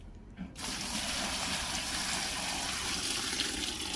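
Steady rushing water pours continuously into a bucket for several seconds after a brief quiet start, a full, splashing flow close by.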